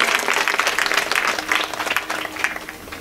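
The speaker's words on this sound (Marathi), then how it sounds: "बाबांसाठी एकदा जोरदार टाळ्या वाजव" A crowd at a Marathi devotional kirtan event claps in strong, continuous applause, loud and dense throughout with slight swells in intensity.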